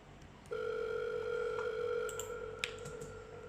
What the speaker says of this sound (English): here's some telephone ringing sounds